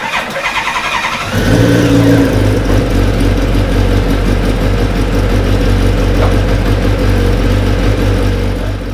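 A Hyper Racer X1 formula race car engine fires for the first time after a brief cranking sound, then settles into a loud, steady, rumbling run close to the microphone for the rest of the clip.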